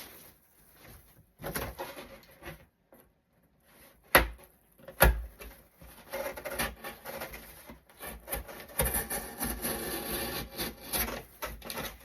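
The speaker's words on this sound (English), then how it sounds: "So we're going to do the same thing, cutting down the flap" Cardboard shipping box flap being cut down, heard as intermittent close scraping and rasping strokes with a couple of sharp knocks partway through.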